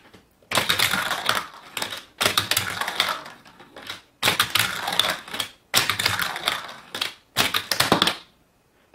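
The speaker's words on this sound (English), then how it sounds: "Let's see if we can use some cars in this air loop." Toy cars run around an air loop track in a series of loud, clattering rattling bursts, each a second or two long, separated by brief near-silent gaps, with no voices.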